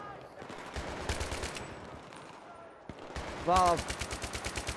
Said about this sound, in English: I'm getting shot from all angles now.